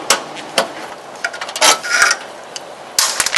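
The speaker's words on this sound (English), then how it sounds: "So we'll get started by removing the 2 factory bolts in here." Metallic clicks and ratcheting taps sound close by as two factory bolts are worked loose on a C7 Corvette, irregular sharp bursts with brief pauses, no talking.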